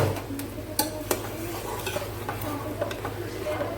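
Chicken stirred and frying in a pan, a steady sizzle under repeated scrapes and clicks of a spoon against the metal.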